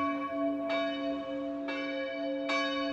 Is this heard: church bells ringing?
yes